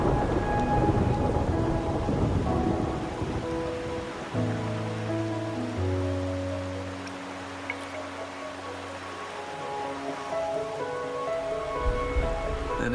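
Rain and thunder in the video game Wuthering Waves, a steady wash of rainfall with a long low rolling rumble of thunder in the middle.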